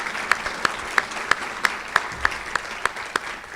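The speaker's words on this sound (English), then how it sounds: "if we could give Yurik a round of applause for his outstanding performance this morning" Applause from an audience at a campus address, heard as a few sharp, evenly spaced hand claps that ring out alone against a soft background.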